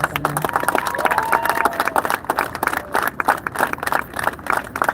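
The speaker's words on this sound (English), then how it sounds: "another round of applause, please" An audience applauds at a live community event, a dense burst of clapping from many hands that fades unevenly over several seconds.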